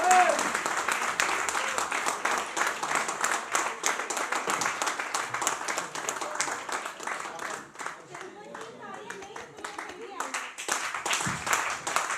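A crowd at a company New Year and birthday party claps loudly and continuously, with dense applause filling the room while a voice talks over it.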